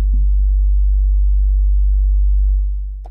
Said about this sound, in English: So I've got my generator here at a square wave right now.